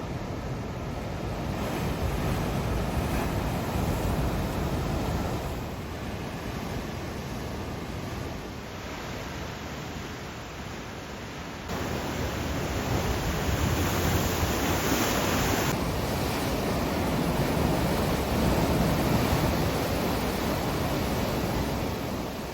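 Surf and wind along the rugged Pacific Ocean headlands at Russian Gulch State Park on the Northern California coast, a steady broad roar of waves that swells and eases, with wind buffeting the microphone and no voices.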